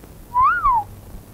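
A single short whistle glides up and then back down, clear and alone, in a scene from a dubbed action film.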